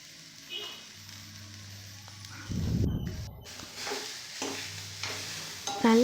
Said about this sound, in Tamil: தேங்காய் உப்புலாம் எல்லா பக்கமும் செய்கிற மாதிரி நல்லா வதக்கி விட்டுடலாம்